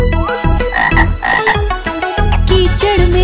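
Frog croaks set into a bright Hindi children's rain rhyme, several loud, rhythmic croaking calls mixed with musical tones and sweeps across a few seconds.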